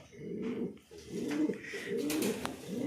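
Several loft pigeons coo in soft, throaty, repeated phrases, close by and continuous, with no voices.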